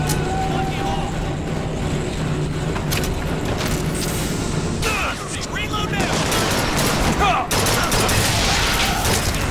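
Rapid bursts of gunfire fill a Bioshock Infinite firefight, loud and continuous, with dense overlapping shots and rumbling action throughout.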